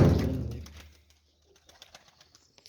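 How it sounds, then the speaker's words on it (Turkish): Pigeons in a coop give a burst of cooing and wing-flutter that fades within a second, leaving faint scattered small rustles and soft clicks nearby. "Evet arkadaşlar kuşlar."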